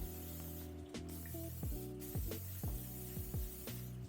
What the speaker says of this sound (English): I like to spray a little cooking spray in here